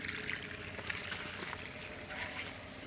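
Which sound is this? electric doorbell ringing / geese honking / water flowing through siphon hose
water flowing through siphon hose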